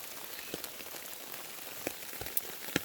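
Rain falls on an umbrella outdoors on a cold day, a soft steady patter with scattered louder droplet taps, faint and close with no talking.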